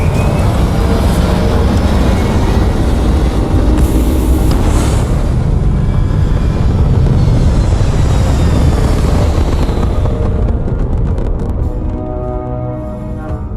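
A spaceship in Starfield lifts off with a loud, sustained engine roar and deep rumble, holding steady for most of the span before thinning and fading toward the end.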